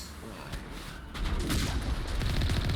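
Sniper gunfire in Mass Effect cracks out as a burst of booming shots that thickens into rapid, rumbling fire, loud and fairly close.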